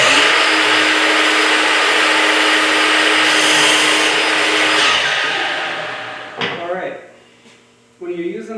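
A Makita miter saw cuts through wood, roaring loud and steady for about five seconds before spinning down, then a rattle of handling and a short restart near the end.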